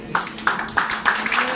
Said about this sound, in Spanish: Esos aplausos son para nuestro Dios